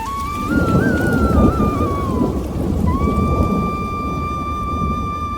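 Loud rain pours steadily while low thunder rumbles, with a wavering high tone sustained above the storm.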